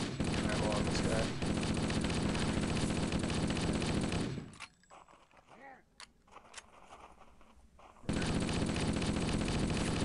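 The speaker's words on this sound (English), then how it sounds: "Let's just waste my assault rifle ammo on this guy." Rapid assault rifle fire in the video game Halo on Legendary campaign, loud sustained automatic bursts that stop midway for a few quieter seconds of clatter, then resume.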